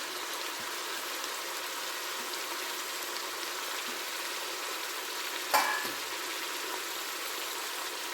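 Mint and coriander leaves hitting hot oil with eggplant and peas already frying, giving a steady, even sizzle throughout with one brief clatter near the end.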